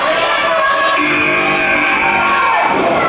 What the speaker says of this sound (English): Listen to the crowd. They're getting behind Blood Beast.